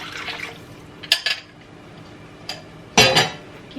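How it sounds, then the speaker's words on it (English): Stock pours into a pot with soft, close liquid splashes and a few clinks of metal against the pan, brief and fairly quiet, with no talking. "Now I'm going to add the rest of this stock."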